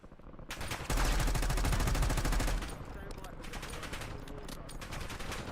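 Rapid pistol gunfire in the video game Warzone, a dense burst of fast repeated shots that is loudest early on, then continues more steadily under game ambience with no talk.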